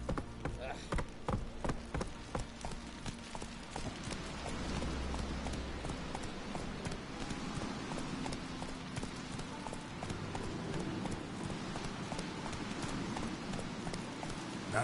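Geralt's horse Roach trotting in The Witcher 3, hooves clip-clopping in a quick steady rhythm that gives way to a dense galloping patter with wind and ambient rumble, moderately loud throughout.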